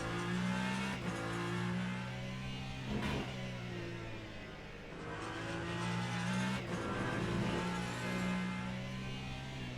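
Race cars in Le Mans Ultimate at Bahrain during a multiclass event, engines droning and rising as several cars pass in waves, two louder swells standing out over a steady engine hum.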